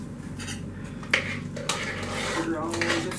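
Metal utensil clinks and scrapes against a bowl as a meatloaf mixture with pats of butter is stirred, a steady close clatter with a couple of sharper knocks.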